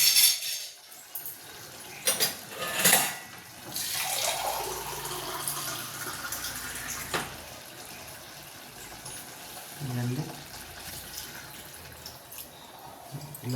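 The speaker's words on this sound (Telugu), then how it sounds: "ఇలా అయిన తర్వాత కొంచెం వాటర్ వేసేసుకొని" Water is poured into a pot of goat head curry in a home kitchen, a continuous splashing, trickling stream with occasional metallic clinks, close and moderately loud, no talking.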